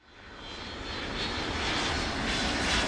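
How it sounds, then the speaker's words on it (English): Airplane engine roaring steadily as the opening of a music video, a broad continuous drone that swells from quiet to loud over a few seconds, alone without talk. "Immediately starts with a plane."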